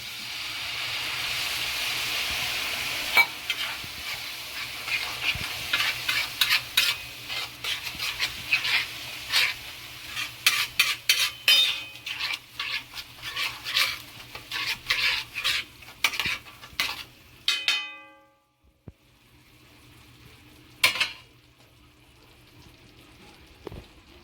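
A spoon stirs and scrapes masala for tawa egg masala in a pan with a little water added, giving repeated metallic clinks and scrapes over a low sizzle that fade out near the end, followed by a few final taps.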